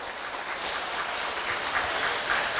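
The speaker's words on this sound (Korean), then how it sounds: "감사와 사랑의 박수 한번 보내주시면 고맙겠습니다" Guests at an international Human Club 29th anniversary event applaud during a gift presentation, a continuous, even roar of clapping from a large room with no speech over it.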